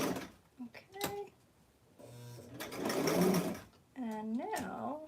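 A sewing machine stitching a blouse runs in short bursts, a few stitches then a back stitch, with a steady mechanical whir between pauses while someone talks nearby.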